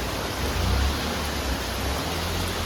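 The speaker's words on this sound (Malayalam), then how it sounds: "നല്ല മഴയാണ് കേട്ടോ" Heavy rain falls steadily, a dense, even hiss with a low rumble underneath, holding at one level throughout with no voices.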